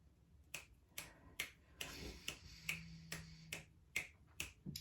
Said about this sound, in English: They've never had me snap my fingers before.